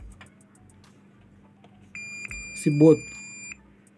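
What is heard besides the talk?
buzzer beeping from shorted IGBTs in K3 Powersoft amplifier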